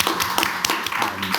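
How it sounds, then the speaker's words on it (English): A small audience claps for a few seconds, a dense, even patter of hands with no voices over it. "I think we should give a round of applause."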